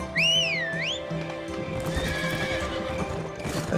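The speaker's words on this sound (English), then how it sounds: "so we best be getting on the horse" A horse neighs loudly at the start, then hooves clip-clop steadily as it moves along in the video game Revelation Online, with game music playing underneath.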